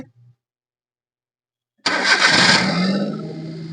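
After a short silence a Maruti Alto engine with an over-racing fault cranks and roars to life, revving loudly before easing down toward an idle.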